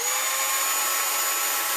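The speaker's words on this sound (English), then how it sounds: "we're going to take our drill for the tap" A power drill whines steadily and loud, a high continuous motor tone while drilling holes into the plastic canopy of a Ziroli Texan model plane, with no talking.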